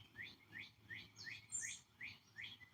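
A cardinal calls in a steady repeating series of sharp, slurred chirps, about three per second, fairly faint against quiet outdoor background.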